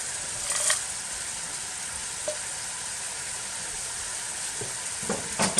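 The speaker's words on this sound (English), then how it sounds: "And give it a good stir." Fish chowder with bay leaves being stirred in a pot, a steady soft bubbling hiss running throughout, with a few scraping stir strokes, clearest near the start and again at the end.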